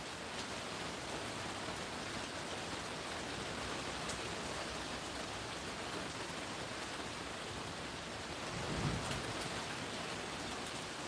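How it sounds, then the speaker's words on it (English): Steady rain in a desert homestead setting makes a constant, even hiss, with a brief low rumble of distant thunder swelling faintly near the end. "I just heard some thunder."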